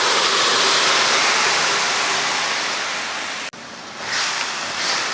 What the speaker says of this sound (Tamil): இந்த டைமில் நம்ம வேக வச்சோம் இல்லையா, அந்த மட்டனை சேர்த்துடலாம். அப்படியே தண்ணியோடையே சேர்த்துருவோம்.